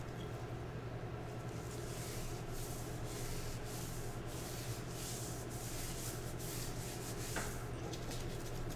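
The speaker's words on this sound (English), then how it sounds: "now I'm going to just add a bit of the rub all over my salmon" Hands rub a spice rub over a salmon fillet, giving a continuous soft, close scraping and smearing texture with steady rhythmic strokes, no talking, over a constant low hum.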